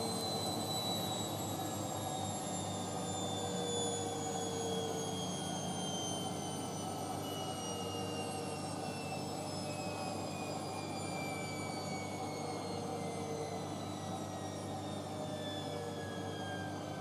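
A Bosch VarioPerfect WAK28260GB/11 washing machine on a wool 40 wash at 800 rpm spin, a steady whirring drone with slowly falling whine tones, continuous and even throughout.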